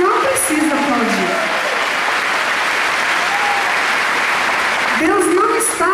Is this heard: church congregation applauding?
yes